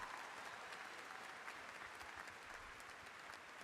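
Sustained, dense applause from a large commencement crowd honoring graduates, steady and even throughout without breaks or speech.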